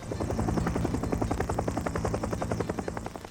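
A National Guard helicopter hovers close during the 1993 flood at the Des Moines Waterworks, unloading sandbags. Loud, rapid rotor thumps beat steadily over a heavy engine roar, with no voices.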